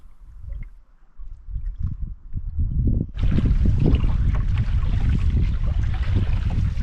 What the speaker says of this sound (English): Paddling down the west arm of Isaac Lake on the south side of the arm.